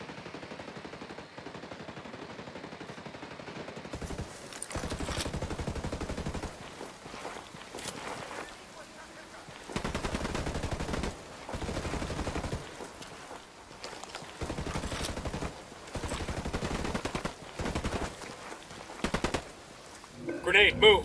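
Sustained gunfire exchange between Unidad troops and rebels in Ghost Recon Wildlands, bursts of automatic fire coming in repeated loud waves with short lulls between them, and voices heard under the shooting.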